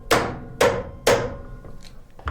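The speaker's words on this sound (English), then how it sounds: "And then I'm going to smack this a few times." A hammer strikes part of a wooden drop-down storage bin three times in steady succession, each a loud, close, ringing thump, followed by quieter shuffling.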